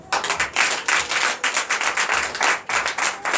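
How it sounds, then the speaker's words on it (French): Church congregation at a Sunday service in Comè, Benin, clapping in a rhythmic, pulsing pattern of quick bursts, close and loud, with no talking over it. "Est-ce que vous ne pouvez pas applaudir cela?"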